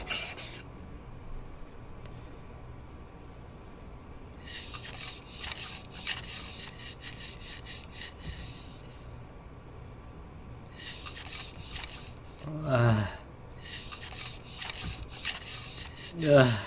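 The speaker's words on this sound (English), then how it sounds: "The simple repetitive work of sanding the mirror was enough to keep me awake for a little longer." Sandpaper scrubbing a mirror as a visual novel sound effect: repeated rough rubbing strokes in uneven bursts, fairly close and moderately loud, with no voices.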